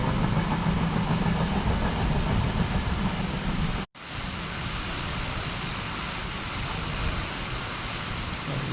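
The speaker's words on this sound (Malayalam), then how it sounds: "Mumbai LTT Netravati express." The Mumbai LTT Netravati Express rumbles loudly and steadily past a railway station in heavy rain, a continuous near roar of wheels and cars with a brief cut midway.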